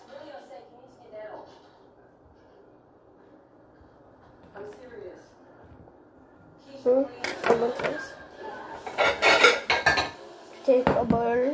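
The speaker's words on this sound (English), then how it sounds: "Now, I'm going to cut it." A knife cuts a lemon for homemade lemonade on a kitchen counter, with knocks and clattering of utensils that grow louder and busier toward the end while a person talks.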